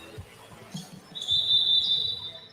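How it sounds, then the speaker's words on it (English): A referee's whistle at a basketball game blows one sharp, sustained blast partway through, heard over faint court noise and footsteps. "Another whistle."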